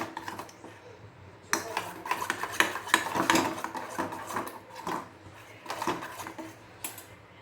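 A spoon stirs a heating mixture in a pot, making a run of close metallic scrapes and clinks in an irregular rhythm, with little else heard.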